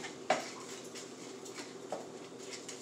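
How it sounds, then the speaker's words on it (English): Vegetables being stirred in melted butter in a skillet: faint clinks of a utensil against the pan, one sharper knock near the start, over a soft low sizzle with no voices. "Give them a little stir."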